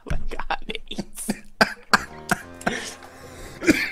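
A coughing fit from a player during a Super Mario Bros. 3 gaming session: a close, loud run of harsh coughs and throat clearing over about four seconds, coming in uneven bursts.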